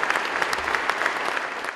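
A crowd at a speaking appearance applauds a Navy SEAL speaker, a dense, steady burst of clapping heard at moderate distance, with no talk over it.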